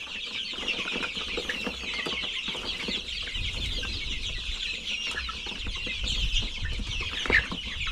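Dense clucking and chirping from many young chickens, continuous and close, with occasional louder calls standing out from the flock.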